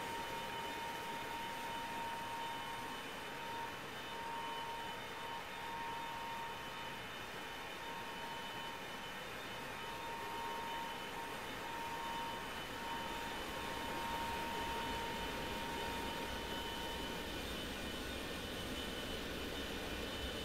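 Steady roar of a Boeing 727's jet engines in the X-Plane 11 flight simulator, with a high whine and a faint tonal hum, continuous and even throughout, with no voices.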